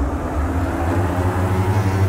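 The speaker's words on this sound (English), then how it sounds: "So I'm going to give those engines 10 seconds at full power." Diamond DA42 twin-engine aircraft in a flight simulator with both engines run at full power, giving a steady, loud droning hum with no voices.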